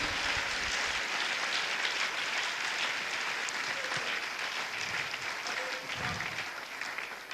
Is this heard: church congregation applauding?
yes